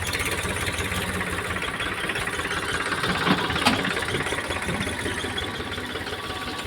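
A Champion farm tractor engine runs steadily at close range during jowar sowing, a continuous loud mechanical drone with a dense knocking pulse and a brief rise near the middle.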